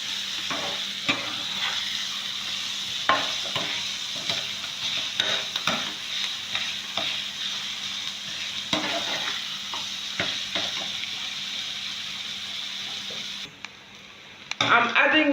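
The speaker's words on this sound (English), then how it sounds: "So I'm going to stir it." A noodle cake mixture sizzles in a pan while a utensil stirs and scrapes it in irregular close strokes, with a quieter pause near the end before louder clatter.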